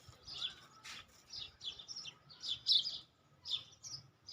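Small birds chirp in trees near watermelon put out for them, a string of quick, bright tweets in scattered bursts over faint background noise, with no voices.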